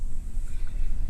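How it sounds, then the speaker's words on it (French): Wind blowing outdoors, probably by the sea near a boat, rumbling steadily across the microphone in low gusts, fairly loud and alone with no voices. "il y a du vent"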